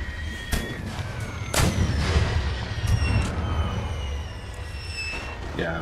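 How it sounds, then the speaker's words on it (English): Artillery field guns fire in a World War 1 mod of Napoleon Total War, giving several sharp booms at irregular intervals over a steady rumbling battle bed, with whistling shells and other battlefield noise mixed in. "Yeah, the artillery's starting to hit their own."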